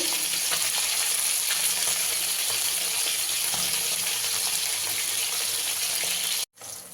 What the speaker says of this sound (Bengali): মাছগুলো বেশি ভাজবো না, হালকা ভাজবো।